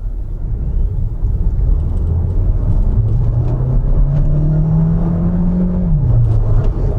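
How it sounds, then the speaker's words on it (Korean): Renault Grand Koleos hybrid in black accelerating hard from a standstill, a low rumbling drone with a rising motor whine climbing steadily and then dropping near the end, heard from inside the cabin without talk. "급출발합니다."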